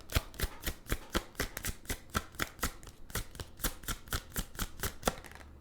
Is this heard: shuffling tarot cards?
yes